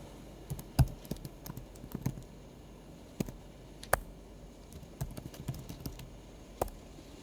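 A username typed on a computer keyboard, with sparse, irregular key clicks and taps spaced out over several seconds against a quiet background.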